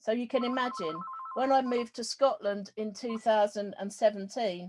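A phone rings with a steady electronic tone for about a second while a person keeps talking over it.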